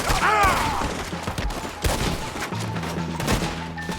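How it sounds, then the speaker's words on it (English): Gunfire in the Red Dead Redemption 2 video game, a rapid fusillade of close shots with sharp thuds and booms scattered across the clip, mixed with shouting voices and game sound. "Arthur, shoot!"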